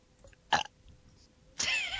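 A single burp rises out of quiet room noise, with a short sharp vocal sound just before it.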